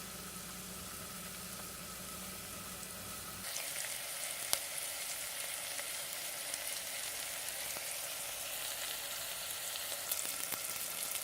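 Onions and pork fat frying in a pan for a spinach stew, giving a steady close sizzle that swells suddenly into a brighter, louder crackle partway through, with occasional sharp pops and no voices.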